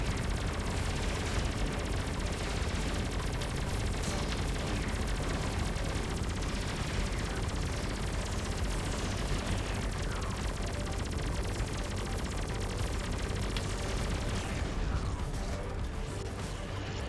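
Missiles and ship weapons firing in the space combat video game Everspace 2, a dense continuous barrage of rapid shots and mechanical whooshing that runs steadily throughout.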